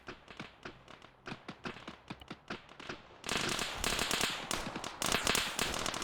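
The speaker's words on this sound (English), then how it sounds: "We're hearing some bullets too" Gunfire in a Spec Ops video game battle: a run of sharp, separate shots at first, then a sudden dense burst of rapid overlapping fire that keeps rattling loudly to the end.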